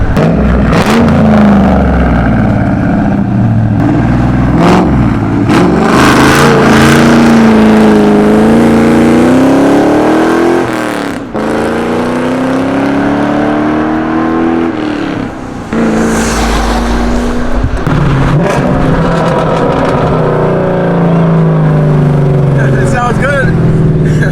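A car engine fitted with a McLeod stainless steel clutch revs up and down repeatedly, its rising and falling tone loud and close, with a person talking over much of it.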